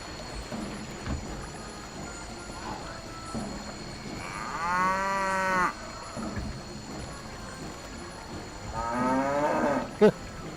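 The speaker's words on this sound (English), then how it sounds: "These dinosaurs sound just like cows." Dinosaurs in the VR video game Gori: Cuddly Carnage let out cow-like moos, two long, drawn-out lowing calls separated by a quieter stretch of faint background ambience.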